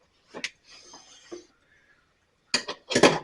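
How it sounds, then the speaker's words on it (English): Sharp metallic clicks from a hose reel's metal mount being drawn tight against boards by bolts: a lone tick, a faint scrape, then after a pause a louder cluster of close clinks and clatter. "That clicking noise you hear, it's actually the metal being pulled in"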